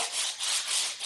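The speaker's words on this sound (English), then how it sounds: "Is the sanding really loud?" Wood being sanded during a room remodel gives a short, soft back-and-forth scratchy rasp in two or three strokes, faint and at a distance, with no voices.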